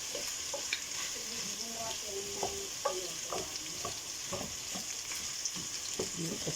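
Pork cubes frying in a pan and being stirred, a steady sizzle with scattered scraping clatters of the utensil throughout, close and moderately loud, no talking.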